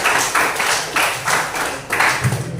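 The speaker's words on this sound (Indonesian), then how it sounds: "kasih tepuk tangan untuk teman-teman" Classmates in a school classroom clap together in a steady burst of applause, a run of rhythmic claps lasting a few seconds at close range.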